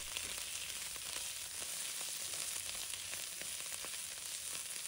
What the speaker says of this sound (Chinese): 我们把酸菜放入锅中，把这个酸菜炒一下会更香，而且很脆，保持大火煸炒。